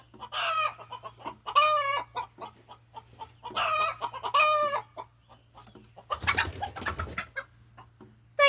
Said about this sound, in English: Today it's chickens.